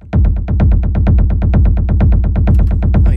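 A loud, throbbing low bass pulses rapidly and evenly, about eight hits per second, each note echoing into the next, with a brief noisy burst at the end.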